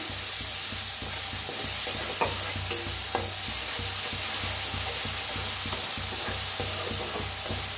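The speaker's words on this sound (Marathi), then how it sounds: "आता तेल चांगलं तापलंय, त्याच्यातच टाकूया मिरचीचं कूट." Crushed chili frying in well-heated oil, a loud steady sizzle close by, broken by a few light stirring knocks and scrapes in the pan, with no talking.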